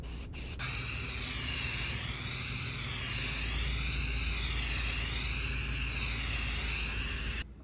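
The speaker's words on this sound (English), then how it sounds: "I'm just going to use the Ben 123 primer, which is a water-based primer, and I'll spray that on the sides and the rest of the drawers." A spray gun applying Ben 123 water-based primer to a dresser gives a loud, continuous hissing spray lasting about seven seconds, with pulsing, wavering airflow, then cuts off abruptly.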